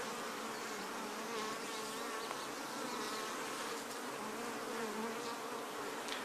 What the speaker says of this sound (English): And the bees are starting to collect and store some honey.